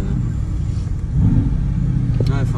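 Mercedes-AMG 4-litre biturbo engine, the same unit used in the C63, rumbles low and close, then swells into a louder, deeper rev partway through, with a brief voice near the end.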